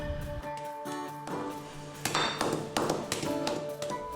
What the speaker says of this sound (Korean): 잘 마른 개소갱은 단단하기 때문에 나무 밀대나 망치로 여러 차례 두드린 후에 먹을 수 있는데요